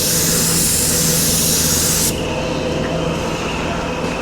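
A spray gun lays paint on a Ford Mustang, a loud, close, continuous airy hiss that cuts down abruptly after about two seconds, leaving a quieter compressor-like hiss running.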